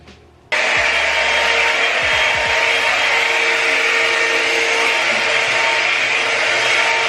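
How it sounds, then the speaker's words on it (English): A hair dryer blows steadily at close range while drying hair, a loud continuous broadband whoosh that switches on abruptly and runs without a break, with a low hum beneath it. "I just want to dry this hair."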